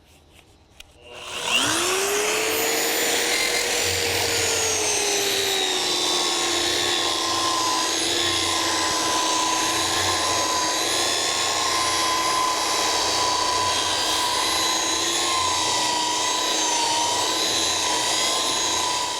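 A power polisher fitted with a 1000 grit pad works the surface of a Quadra Fire cube stove, starting after a short pause and holding a loud, steady, high-pitched whine with little change for the rest of the stretch.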